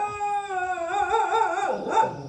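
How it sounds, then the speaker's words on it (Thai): Two dogs keeping watch at a cremation site in the grounds of a forest monastery howl and yelp, a sustained, wavering howl rising and bending in pitch, followed by a rougher whimpering yip near the end, close and fairly loud with no talk. "ที่ชาปนกิจนี่คงจะมีหมาสองตัวย่เฝ้า"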